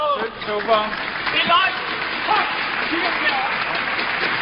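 A crowd of fans at the 2008 Denmark Open badminton match between Peter Gade and Joachim Persson, with one or two voices calling out encouragement over a steady murmur and scattered clapping.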